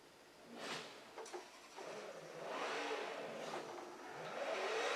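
A car engine revs and rises in pitch as the vehicle pulls away, steady and fairly close, with no talking.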